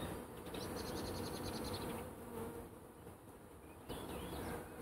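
Dense, loud buzzing of many honeybees swarming close by, a steady droning hum filling the whole stretch with no voices.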